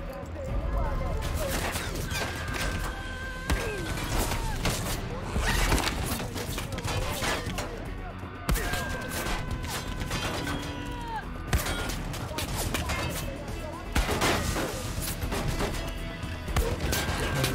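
Dense gunfire from the video game Far Cry New Dawn crackles nonstop in rapid bursts and volleys, loud and cluttered, with a voice speaking over the shooting.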